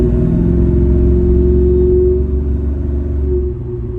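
A Porsche 928's engine hums in a loud, steady low drone from inside the car while driving, easing slightly in the final second.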